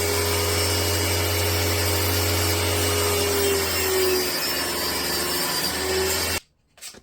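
Power saw cutting wood pieces for a parquet coffee table top, a steady loud whine that runs continuously for over six seconds before cutting off abruptly.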